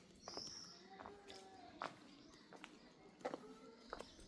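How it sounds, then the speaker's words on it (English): Footsteps along a quiet stone street in a Provence village, a few soft irregular steps heard faintly and close against a hushed background, with an occasional small click or bird chirp. "all you can hear are our footsteps"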